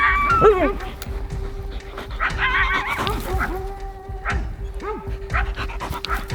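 Coyotes in New Mexico under a full moon yip and howl in short rising bursts over a steady low hum, with people talking faintly underneath.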